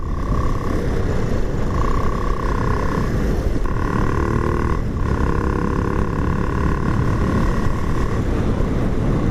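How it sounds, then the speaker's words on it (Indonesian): Single-cylinder Honda CBR 250R engine swapped into a Supra X 125, its throttle body intake giving a loud, steady idle drone with a sustained whine, a few brief dips and rises in pitch, close and continuous throughout. "Bunyi ini sebenarnya bukan knalpot ya, ini bunyi throttle body"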